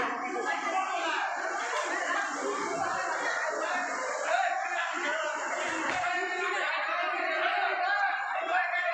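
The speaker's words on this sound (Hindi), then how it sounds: "यहाँ कितना भीड़ है बाहर देख सकते हैं" A dense outdoor crowd at a Durga Puja pandal in Bihar, with many voices chattering and calling at once in a steady, loud wash that runs throughout.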